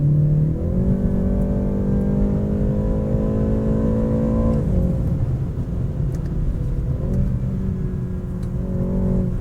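A 2023 facelifted BMW 330i M Sport with an 8-speed gearbox accelerates, its engine note climbing smoothly in two rising pulls with a brief dip at each gear change, close and steady throughout.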